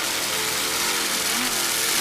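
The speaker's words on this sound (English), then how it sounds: "Nice throttling there by Peter Meyer of Port Washington, New York." A 32-foot Instigator racing powerboat with Bandit racing engines throttles at the 2001 Key West World Championships, a loud, unbroken engine roar that holds steady and close for the whole stretch.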